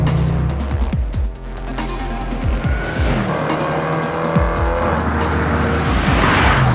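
A Land Rover Range Rover Sport SVR, the brand's most powerful model, corners hard on the Nürburgring: a loud roaring engine with rising and falling revs and squealing tyres, close and continuous, with no talk.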